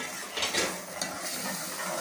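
Achari masala with turmeric, salt and nigella seeds frying in a pan for an egg dish, a dense hiss of sizzling with a couple of short scraping stirs, close and steady, no voices.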